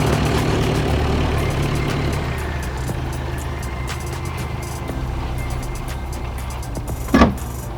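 Mitsubishi Delica L300 with a 4D56T turbo diesel engine running out on a trail: a steady low diesel rumble and idle drone throughout, fairly loud, with a brief sharp knock near the end.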